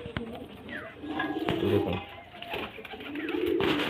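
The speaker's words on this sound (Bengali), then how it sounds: "তো এই সমস্ত পায়রা পেয়ে যাবেন দাদার বাড়িতে" Pigeons kept for breeding and sale at a home loft coo in low, repeated throaty phrases close by, overlapping with someone talking.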